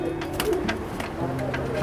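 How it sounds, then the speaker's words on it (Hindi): Teddy pigeons in a loft coo in low, repeated throaty rolls, close and moderately loud, with faint chirps and someone talking softly beneath. "आप देख रहे हैं ये टेडी कबूतर भोपाल के अंदर दुबई का शौक कर रहे हैं आप"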